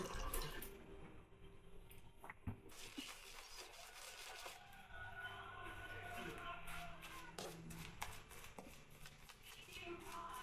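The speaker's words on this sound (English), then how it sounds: "let me rinse off the face" Water splashing and running as a face is rinsed during a straight-razor wet shave, with continuous wet sloshing and dripping close by, interrupted by irregular splashes.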